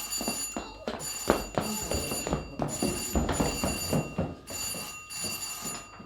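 An office telephone rings in repeated bursts of bell-like trills with short gaps between them, loud and close with no voices.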